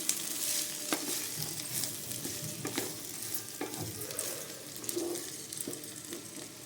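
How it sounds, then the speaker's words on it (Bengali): Washed rice frying in ghee for basanti pulao gives a quiet, steady sizzle, broken by the scrape and clink of a utensil stirring it in the pan, with no talking. "চালটাকেও ভালো করে ঘিয়ের সাথে ভেজে নিতে হবে।"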